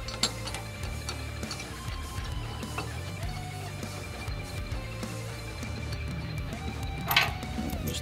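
Repeated ratcheting clicks and metallic mechanism noises while a vise clamp mount is tightened onto a base, close and moderately loud, without talk.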